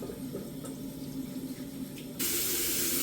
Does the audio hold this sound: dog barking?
no